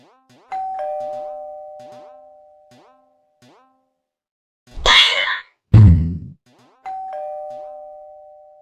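A two-tone electronic doorbell chimes twice, loud and clear, with a short burst of rustling noise between the rings in an otherwise quiet room.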